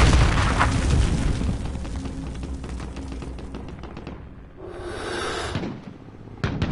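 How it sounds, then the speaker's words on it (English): Mortar shells exploding in a PS4 war video game: heavy, rumbling blasts and booms crowd together loudly, ease into a brief lull, then flare up again with fresh bursts near the end. "Mortars incoming!"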